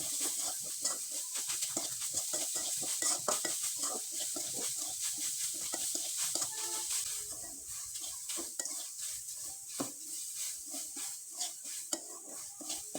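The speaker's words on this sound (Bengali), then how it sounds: "খুব ভালোভাবে নেড়ে চেড়ে পুরটা একবার শুকনো শুকনো করে তৈরি করে নেব" Coconut and jaggery filling stirred in a pan until dry, a busy run of rapid scraping and clinking strokes of a spoon against metal, loud and close, with no talk.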